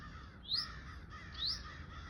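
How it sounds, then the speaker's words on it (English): Two harsh, rising bird calls about a second apart, identified as eastern towhees calling from brushy sand pine scrub in Lyonia Preserve, Deltona, Florida, fairly close over a steady background hiss, with no voices. "the birds that you're hearing are eastern towhees, and they live in the brush here"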